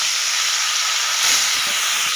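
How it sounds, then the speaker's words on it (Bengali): Fish sizzling as it drops into hot oil in a pan, a steady loud hiss of frying throughout with a brief surge in intensity partway through; no voices. "তেলটা গরম হয়ে গেছে, এবার মাছটা দিয়ে দেব।"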